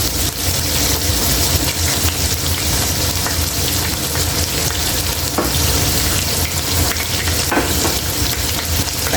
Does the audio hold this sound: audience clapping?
no